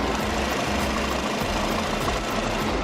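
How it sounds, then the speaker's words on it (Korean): A gasoline large sedan's engine idles with the hood open, heard up close as a steady, even hum and low rumble with a faint regular ticking and no voices. "엔진 소음을 담기 위해 본네트를 한번 열어봤는데요"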